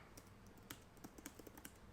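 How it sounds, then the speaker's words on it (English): Someone types on a computer keyboard with quick, uneven clicks and clacks, close but quiet, with no talk. "Sorry about the typing."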